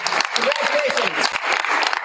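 Applause from an audience at a school board meeting honoring students of the month, a steady patter of clapping lasting throughout with a voice speaking over it.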